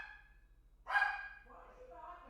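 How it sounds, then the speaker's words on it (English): A single dog barks once in the background, a short sharp yelp followed by a fainter whimpering tail, set against a quiet room with a low steady hum. "Don't know what the dog's barking at."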